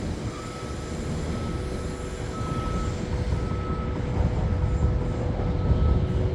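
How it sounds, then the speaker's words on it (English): A train rumbles steadily across George Stephenson's old rusty 1830 railway bridge, a loud continuous low roar with faint intermittent tonal beeps over it, building slightly toward the end. "you can just see the train coming over"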